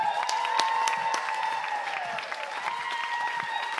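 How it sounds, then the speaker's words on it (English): Comedy club crowd applauding as a comic takes the stage, sustained clapping from a full room with scattered cheers, a voice speaking faintly over it. "thank you so much for that round of applause"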